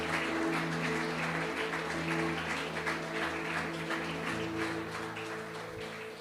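A church congregation claps continuously in dense, sustained applause over a low droning background, gradually easing toward the end.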